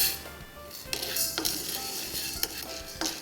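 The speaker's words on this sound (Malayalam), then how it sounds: "കടലപ്പരിപ്പ് നമുക്ക് വറുത്തെടുക്കാം." Chana dal being dry-roasted in a pan for chammanthi powder, a steady dry hiss and rustle with scraping stirs and occasional clinks of a spatula against the pan, close by.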